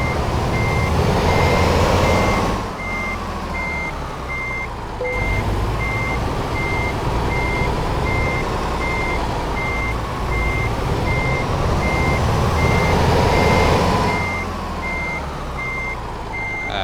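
A truck in Euro Truck Simulator 2 reverses while parking a trailer, its steady, loud backup beeps pulsing evenly over a continuous engine drone throughout, with no voices.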